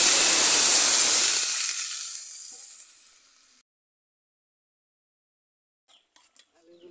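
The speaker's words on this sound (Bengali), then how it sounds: "এখন আমি জল দিয়ে দিচ্ছি।" Water is poured into a pan of frying potatoes with salt and turmeric, setting off a loud burst of hissing sizzle that fades over a few seconds into silence, followed by faint utensil clinks.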